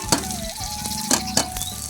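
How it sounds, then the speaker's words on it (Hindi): Red chillies fry in hot oil with a crackling sizzle, broken by a few sharp metallic clinks of a spoon against the pan. "हाँ तेल गर्म हो गया है। अब इसमें डालूंगी मैं मिर्ची। मिर्ची को लाल होने दूंगी।"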